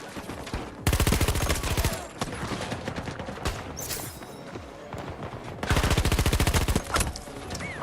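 Rapid automatic gunfire in a shooter video game, two dense bursts of rattling shots separated by a stretch of scattered single shots and ambient clatter, loud and close, with no talking.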